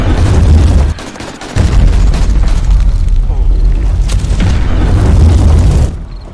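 Heavy booming explosions from Meteor spells in the Darkness Falls Sorcery mod game, deep rumbling blasts nearly continuous with a short gap, loud and close, with crackling impacts throughout.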